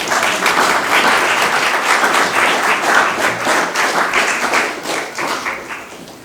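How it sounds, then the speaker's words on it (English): A hearty round of audience applause at a Berkeley celebration event, loud and sustained clapping from a sizable crowd that carries on for about six seconds before gradually fading. "Let's welcome with a hearty round of applause"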